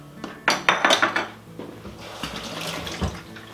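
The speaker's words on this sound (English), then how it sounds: "I'm starting off with 2 eggs that I'm putting into my mixer's bowl here" Two eggs go into a stand mixer bowl with a wire beater attachment: a quick cluster of hard clinks and taps against the bowl, followed by quieter scattered knocks.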